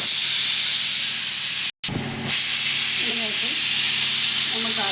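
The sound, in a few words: mutton frying in oil with spices for pepper soup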